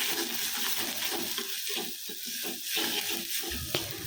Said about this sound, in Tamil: இந்த மசாலாவை சேர்த்துட்டதுக்கப்புறமா கொஞ்சமாக வதக்கி கொடுத்துக்கிறேன்.